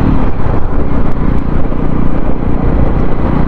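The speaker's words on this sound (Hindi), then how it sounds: "बाइक काफ़ी रिफाइंड है, वाइब्रेशंस अभी तक तो मुझे कुछ फील हुए नहीं है" A Jawa 300 motorcycle engine runs on a test ride, its loud, close rumbling drone steady and full, mixed with some wind buffeting.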